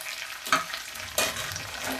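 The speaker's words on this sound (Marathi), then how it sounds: "आता आपण भाजी याच्यामध्ये घालूया शिजलेली" A spoon scrapes through cooked vegetables as they are mixed into sizzling tomato puree for pav bhaji, with two distinct stirring strokes over a soft, steady frying hiss, faint and close.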